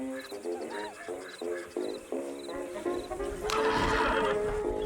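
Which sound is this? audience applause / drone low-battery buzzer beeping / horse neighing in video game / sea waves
horse neighing in video game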